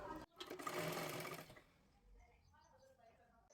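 A sewing machine runs in one brief burst of about a second and a half while stitching folded boat neck blouse fabric, followed by quiet with soft talking.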